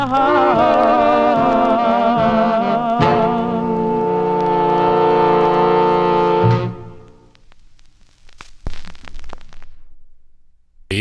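A 1951 R&B vocal record on the Savoy label, played as a 78, carries a loud, steady sung melody over accompaniment that fades out about two-thirds through, leaving faint surface noise and a few scattered pops.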